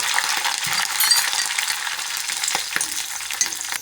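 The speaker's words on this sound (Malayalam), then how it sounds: "നമ്മൾ ഇഞ്ചിയും വെളുത്തുള്ളിയും കറിവേപ്പിലയെല്ലാം കുറച്ച് മുരിഞ്ഞ് വരണം." Ginger, garlic and curry leaves fry in coconut oil for homemade mango pickle, giving a steady close-up crackling sizzle with a few sharper pops and a faint clink of stirring, no voices.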